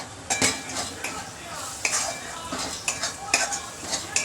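A metal spoon stirs and scrapes through masala spices, turmeric, red chilli powder, ground green chilli and coriander powder, in a pan. It makes irregular clinks and scrapes over a soft sizzle, close by.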